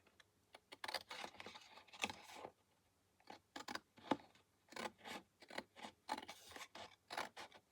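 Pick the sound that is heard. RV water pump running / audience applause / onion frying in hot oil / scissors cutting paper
scissors cutting paper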